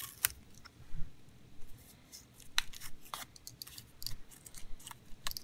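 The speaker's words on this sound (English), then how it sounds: "Remove the sticker," Sticker tape peeled off inside a Chromebook during a touchpad repair, giving a few brief crinkly tearing and scraping bursts close up over a quiet background, with no talking.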